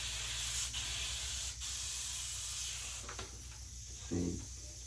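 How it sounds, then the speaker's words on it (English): Airbrush spraying a test burst of white water-based paint while airbrushing lettering on a goalie mask backplate, a steady broad hiss running throughout with brief dips, over a low constant hum and a short voice near the end. "I just like to test the spray."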